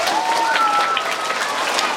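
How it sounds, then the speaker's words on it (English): A crowd at a children's science show applauds three volunteers on stage, with loud, steady, dense clapping throughout and a faint whistle-like tone rising through it. "Give them a round of applause."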